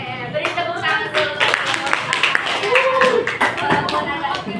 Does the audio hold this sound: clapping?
yes